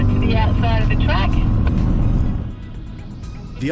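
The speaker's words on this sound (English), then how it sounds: "these cars are going past of up to 250 or 260 kilometres an hour" Audi RS cars roar past on the Phillip Island race track at high speed, a loud engine sweep that fades after a couple of seconds, with someone talking over it.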